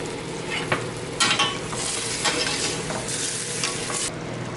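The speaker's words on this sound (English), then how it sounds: "Okay, let's go with some white wine in here now." Shrimp frying in a pan as white wine goes in, a steady loud sizzle with bursts of hissing and stirring scrapes.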